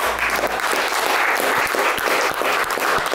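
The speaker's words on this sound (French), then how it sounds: "déjà on peut applaudir" Steady applause from an audience, dense clapping filling the whole stretch at an even level.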